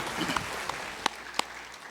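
Church congregation in Korea applauding during a Sunday worship service: soft, scattered clapping with a few sharper individual claps standing out, fairly distant and brief.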